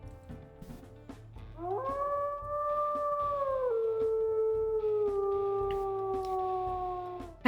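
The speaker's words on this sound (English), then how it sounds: "let's also listen to her howls here. Oh, it looks like she got the first one, so the classic nostalgia howl" A wolf pup in the video game WolfQuest lets out its classic howl, a single clear, rising then long sustained tonal cry that steps down in pitch midway, heard alone over a quiet low backdrop.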